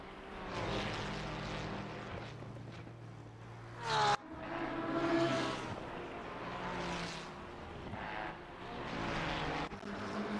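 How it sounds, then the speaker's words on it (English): A sim racing race car at Oulton Park screams past under hard acceleration, its engine note rising and dropping through gearshifts with stuttering traction-control cuts, fairly loud and continuous with a sharp burst midway. "you can hear the traction control working today, man"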